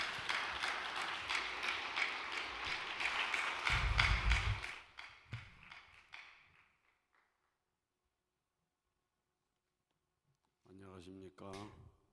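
Applause from an audience at an evening vigil devotion service, a dense wash of clapping for several seconds that swells briefly and then fades out, followed by silence and a short burst of talk near the end.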